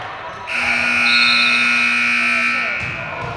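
At a high school varsity basketball game in a gym, the buzzer sounds as one loud, steady electronic tone lasting about two seconds before fading into the hall's background noise.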